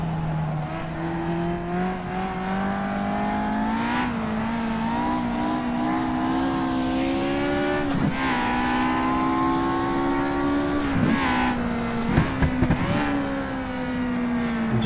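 An older Formula 1 race car laps a track, its engine screaming loud and close in a high, rising whine. Sharp drops mark gear shifts, and quick blips come as it brakes for corners, with no talk.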